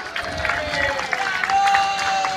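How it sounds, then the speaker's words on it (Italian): At an outdoor talent show in Capena, the audience claps in a steady, lively round of applause, mixed with crowd murmur, cheers and a voice over a sound system. "dai, fatemi sentire l'applauso"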